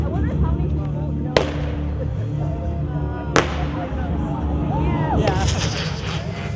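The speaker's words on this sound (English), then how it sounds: "I see fireworks every once in a while." Distant fireworks burst over a hill with two sharp, echoing bangs a couple of seconds apart, set against a low outdoor rumble, with a faint crackle near the end.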